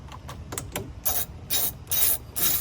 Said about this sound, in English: go ahead and get that 19mm bolt loosened